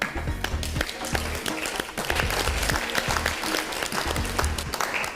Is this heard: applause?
yes